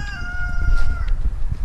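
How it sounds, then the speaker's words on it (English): A rooster crows at sunrise, a long, clear drawn-out call up close, over a low rumble of outdoor background noise. "The roosters are crowing and we're getting stuff cut up."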